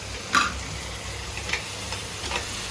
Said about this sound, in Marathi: चला सगळं ढवळूया.